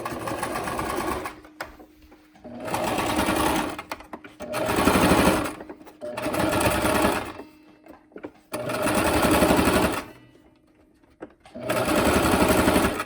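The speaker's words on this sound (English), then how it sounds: "So what I do is I just kind of push the wire as I'm sewing." Sewing machine stitching a face mask with interfacing and a nose wire, running loud and close in several separate bursts of steady whirring, with short pauses between runs.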